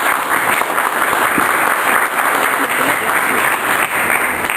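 Continuous loud applause from an audience at a library book talk in Spanish, many hands clapping evenly throughout with no talking over it.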